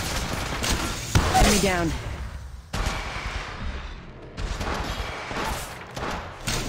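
Gunfire from the video game Apex Legends crackles in dense bursts alongside booming impacts, fading and returning in waves over several seconds, while a game announcer voice speaks over the shooting.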